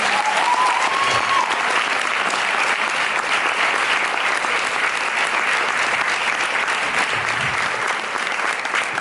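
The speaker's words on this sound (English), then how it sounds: "And by the way, that applause is for you." Loud, dense applause from a large audience fills the whole stretch, a continuous even roar of clapping with no breaks.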